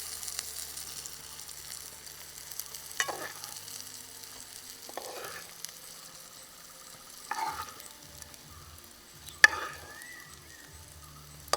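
Brinjal pieces stir-fried in hot oil, Kerala style, give a quiet continuous sizzle with several louder bursts of frying and spoon scrapes at intervals, with no voices.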